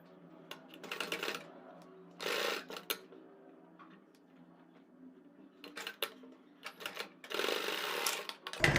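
A sewing machine stitching a cord onto kurti fabric in short, quiet bursts of rapid stitching, separated by pauses with faint handling and fabric sounds, heard close up.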